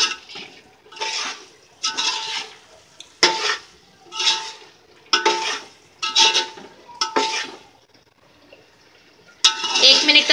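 A spoon stirs keema masoor biryani masala of minced meat and red lentils in a pot, giving repeated scraping, scooping strokes in bursts with short pauses between them, fairly close and with no talk.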